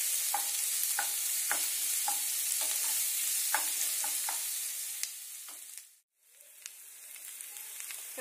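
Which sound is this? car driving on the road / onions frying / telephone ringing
onions frying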